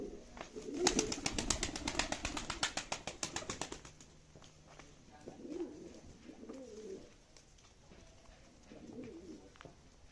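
Pigeons in a coop coo softly in low, throaty phrases, and near the start a flurry of rapid wing-flapping sounds up close. The whole scene is quiet, with no talk.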